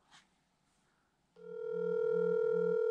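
A test call on a phone running Visible LTE service: a brief click, then a steady ringback tone with a pulsing low hum, heard alone and close.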